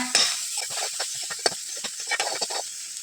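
Close scraping and clinking of a utensil stirring an egg mixture with boiled vegetables in a frying pan, over a steady sizzling hiss, in irregular quick strokes.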